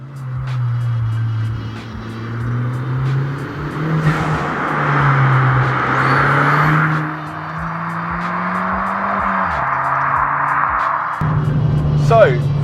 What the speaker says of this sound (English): So let's jump in and go for a drive.